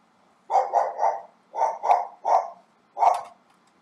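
An excited dog barks in quick bursts: a run of three, then two more, a pause, another single bark, and a final bark near the end, each clear and fairly close, with no voices.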